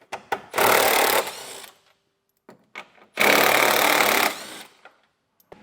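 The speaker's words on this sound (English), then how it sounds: "we'll go ahead and take a 10mm socket and get these removed." Power tool with a 10mm socket backing bolts out in the front end of a 2024 vehicle for a Roadmaster crossbar-style base plate install, two loud sustained whirring bursts separated by brief clicks and silence.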